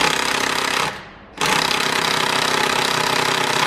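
Pneumatic impact tool hammering on a stuck transmission bolt, loud and continuous rattling close by, with a brief pause near the one-second mark before it resumes at full force.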